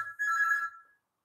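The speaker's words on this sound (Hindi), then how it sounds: "फोन आया है" An incoming-call telephone ringtone in a hotel room plays one bright electronic tone burst, clear and close, then fades to silence.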